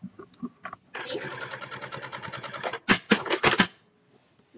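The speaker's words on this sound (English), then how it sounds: "This is the straight sewing. Stitch is very nice." A double needle lockstitch sewing machine sews a straight stitch, giving a fast rattling run of about two seconds followed by a few sharp mechanical bursts, with quieter knocks and voices in the background.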